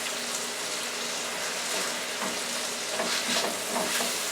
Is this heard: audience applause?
no